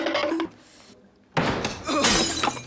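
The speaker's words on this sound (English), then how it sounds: "all three of them drop the glass and break it on the ground" Drinking glasses drop and shatter on the floor in two loud, close bursts of crashing, tinkling glass separated by a brief quiet gap, with voices around them.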